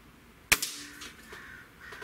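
Gamo air rifle firing a single shot, one sharp close crack followed by a brief ringing tail, then quiet background.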